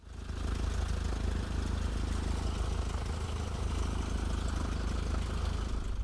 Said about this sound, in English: I'll get the engine running